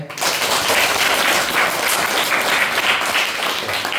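Students in a classroom break into applause, a full, continuous clatter of many hands clapping nearby that holds steady for several seconds without any speaking.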